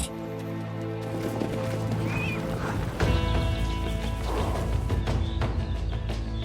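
Purebred horses at the Janów Podlaski stud farm, with hooves clattering and thudding on the ground, a whinny, and some rustling and knocking movement over several seconds, fairly near and busy.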